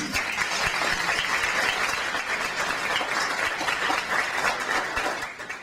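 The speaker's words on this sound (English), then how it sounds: "please give them a round of applause" A conference crowd applauds steadily, a dense wash of clapping that holds for several seconds before tapering off at the end.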